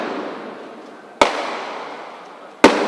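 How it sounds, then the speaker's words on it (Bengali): Police grenades are fired to disperse protesters in the Karwan Bazar and Bangla Motor area of the capital, with two sharp, loud blasts a little over a second apart, each trailing off into a lingering rumble. "আন্দোলনকারীদের ছত্রভঙ্গ করে দিতে বিরতিহীন গ্রেনেড ছোড়ে পুলিশ।"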